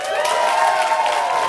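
A comedy audience claps and cheers in a short, steady burst of applause with no voices over it.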